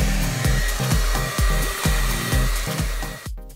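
A hair dryer blows steadily on mid to high heat with its nozzle aimed at the roots of natural hair, loud and close, with a rhythmic pulsing as the airflow is moved through the hair.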